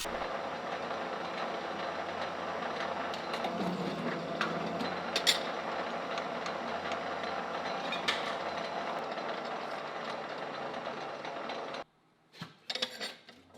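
An ironworker machine shears thin steel in a workshop, a steady loud mechanical hum running throughout with a few sharper cutting clanks, then cutting off abruptly near the end before a couple of brief knocks.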